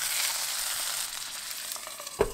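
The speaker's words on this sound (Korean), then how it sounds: "가장자리에 썰어둔 감자를 올려 같이 구워줍니다." Sliced potatoes and chicken sizzle steadily in a hot pan, a dense continuous frying hiss with one brief knock near the end.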